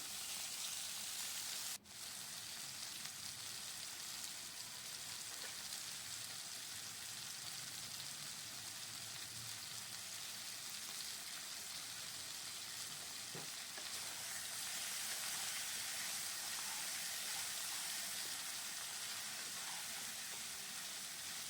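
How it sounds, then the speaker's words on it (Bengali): Potatoes with salt and turmeric fry in a pan, giving a continuous close sizzle and crackle with a single sharp tap near the start. "আমি সামান্য নুন আর একটু হলুদ দিয়ে ভাজবো আলুটা"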